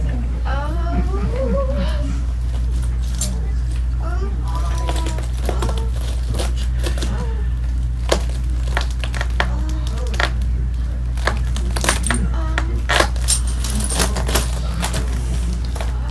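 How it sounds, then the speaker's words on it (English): Broken glass pieces crunching and grinding against one another in a scattered series of sharp crackles and clinks, close and moderately loud over a steady low hum, with speech in between. "So glass sticks to itself really well. That's where the crunching sound comes from."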